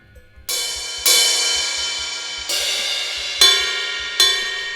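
Bright metallic bell-like hits struck one at a time on the rim of a Nux DM5 electronic drum pad, long ringing decays, five strikes at uneven spacing with no talking.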